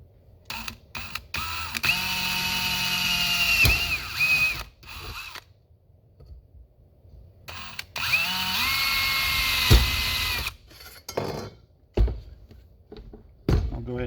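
Power drill boring rivet holes in the metal frame of a pop-up canopy during a repair, two sustained whining bursts with spin-down, separated by short clicks and handling clatter, close and fairly loud.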